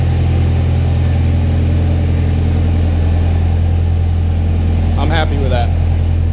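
A Nissan S14 engine idles steadily at a raised speed with the air conditioning and electric cooling fans running, a constant low hum throughout, and someone speaks briefly near the end.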